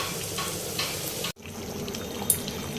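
Eggplant and hilsa fish sizzle in a pan, a faint, steady frying hiss with a brief break midway and small pops and clinks.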